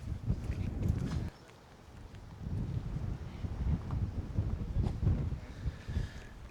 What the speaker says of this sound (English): Really windy this morning.